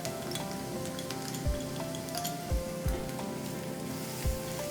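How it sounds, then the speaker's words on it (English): Onions and green chillies sauteing in a pan, with a steady sizzle throughout and a few soft low knocks of stirring, close and fairly quiet, with no voices. "We'll saute this again."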